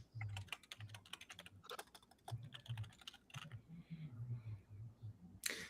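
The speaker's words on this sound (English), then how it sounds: "So I rolled my D20 and two D20 and two D6s." A D20 and two D6 dice are rolled during a tabletop RPG session, giving a string of quick clicking, clattering taps, close and fairly faint, with low murmuring in the background.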